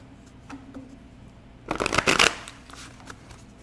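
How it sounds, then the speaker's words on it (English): Tarot cards are shuffled in a quick, crisp riffle lasting under a second, close to the mic, over faint room noise and a few soft taps. "Last shuffle."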